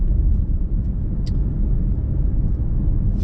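A car driving on a road at night, giving a steady, loud, low rumble of engine and road noise from inside the vehicle, continuous throughout with no talking.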